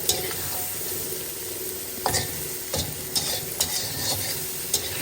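Prawns and cauliflower frying in a pan, a constant sizzle broken by several scraping stirs and light knocks of a utensil, close with no talking.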